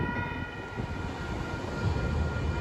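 An Amtrak train hauled by a Siemens Charger locomotive departs San Clemente toward LA, a steady close rumble of engine and rolling wheels with a faint horn-like tone, no talk.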